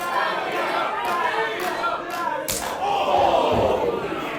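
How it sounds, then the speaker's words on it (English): Sharp slaps of knife-edge chops landing on a wrestler's chest during an independent pro wrestling show, with one loud smack standing out over a steady roar of crowd noise. "The noise of the chops that we've heard so far in this match"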